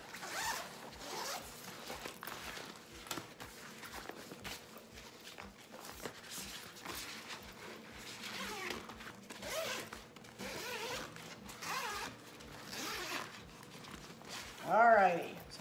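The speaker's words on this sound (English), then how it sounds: "Let me unzip." A clothing zipper on luggage being packed for a cruise rasps open in a long series of quick, close, quiet strokes while a person talks throughout.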